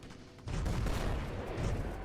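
Gunfire from the video game Fallout: New Vegas, a steady dense rumble of shots blending together, loud and continuous after a quieter opening.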